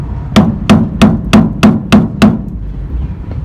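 A hammer taps the handle of a Phillips screwdriver seated in a rusted screw: seven sharp, evenly spaced metallic knocks about a third of a second apart, close and loud over low background noise.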